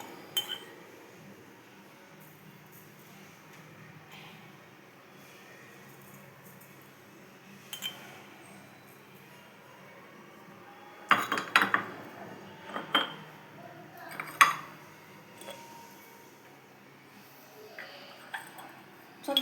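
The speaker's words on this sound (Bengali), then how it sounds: "ধনে গুঁড়ো, জিরে গুঁড়ো একে একে মেশাচ্ছি।" Metal spoon clinking and scraping against a cooking pot while ground coriander, cumin and garam masala are stirred in for chicken pulao, a few scattered clinks and knocks, quiet between, louder cluster in the middle.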